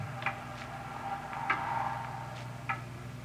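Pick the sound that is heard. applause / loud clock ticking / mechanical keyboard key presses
loud clock ticking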